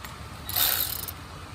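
A hand ratchet is switched from tighten to loosen while working on a car engine, giving a brief close metallic whirring click burst of under a second, with no talking.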